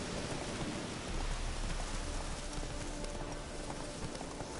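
Horse hooves galloping in The Witcher 3 video game, a steady rhythmic clip-clop under a constant wash of rain-like noise, mid-distance and continuous without talk.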